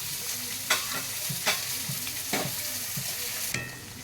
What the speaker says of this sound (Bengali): গ্যাসের ফ্লেমটা আস্তে করে দিয়ে ভাজতে হবে চিকেনটাকে, ভেতর থেকে ভালো করে পেকে আসবে।